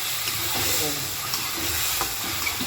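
Potatoes are sautéed in a pan for a vegetable dish, giving a steady broad hiss and sizzle with faint stirring scrapes, close and continuous.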